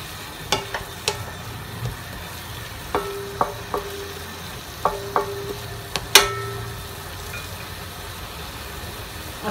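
Chicken frying with onions for a chicken stew, a low soft sizzle under a series of sharp metallic clacks and scrapes of a utensil against the pan, spaced irregularly, one louder strike standing out, no talk.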